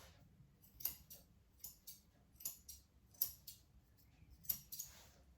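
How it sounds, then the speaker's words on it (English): Grooming scissors snipping fur hanging past a pet's nose, a series of quiet crisp snips in irregular clusters, close and alone against a low background. "anything that's hanging past the nose here, I'm just going to trim off"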